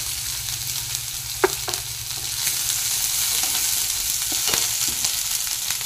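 Green chili, cabbage and capsicum sautéing in a pan give a steady close sizzle broken by a few sharp scraping stirs, with no voices.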